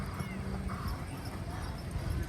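Hooves of a draft horse team clip-clop steadily on the track during a horse pulling contest at a county fair in Pike, NY, heard under constant crowd murmur and open-air noise.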